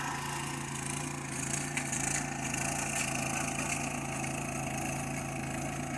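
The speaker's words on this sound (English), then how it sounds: "He's snow blowing the driveway." A snow blower runs with a steady, moderate engine drone at a distance while clearing a driveway in Upstate New York, a low constant hum throughout.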